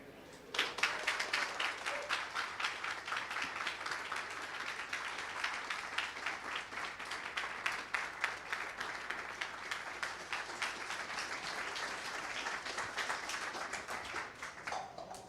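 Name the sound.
audience applause and clapping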